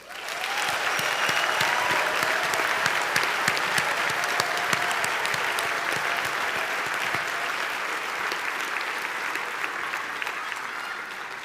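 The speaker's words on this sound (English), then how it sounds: "Please join me in one round of final applause for our graduates." Sustained, loud applause from a graduation ceremony audience honouring graduates at a Mandela University autumn session on the Gqeberha campus, a dense, steady clapping that fills the hall throughout and fades only slightly toward the end.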